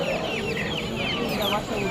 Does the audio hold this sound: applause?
no